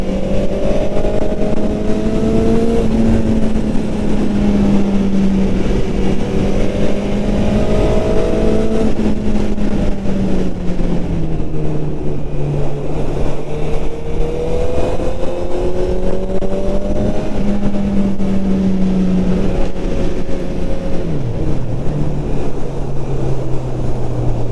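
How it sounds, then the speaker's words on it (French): Honda CB 1000 R 2022 four-cylinder motorcycle fitted with an IX RACE silencer, its engine droning loud and steady in sixth gear as the pitch rises and falls through repeated gentle accelerations. "Là, on va tester la souplesse du 4 cylindres."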